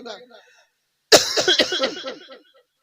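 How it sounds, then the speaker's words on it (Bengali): A sudden harsh cough bursts out after a moment of near silence, followed by rough, strained vocal sounds. "এত কাশি আসছে"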